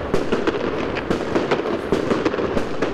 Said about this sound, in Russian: «Альфа», «Румба», «Мальвина» – название ярких и впечатляющих залпов, которых в этот вечер было не менее 600.